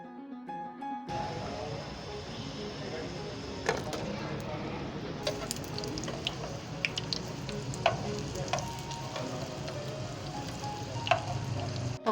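Kadhi pakoras fry in oil over a low flame with a steady close sizzle and bubbling. Occasional clinks and scrapes of a spoon or ladle break through the sizzle.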